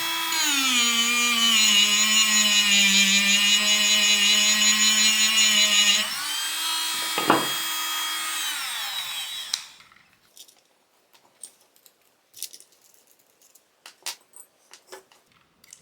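A Parkside PMGS 12 D4 engraving and model-making tool runs with a polishing attachment, giving a steady high-pitched motor whine that shifts pitch once, then spins down and stops, leaving faint clicks and handling noises.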